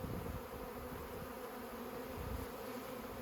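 Honeybees drone in a continuous low, faint buzz around a newly installed hive, with occasional swells as individual bees pass close.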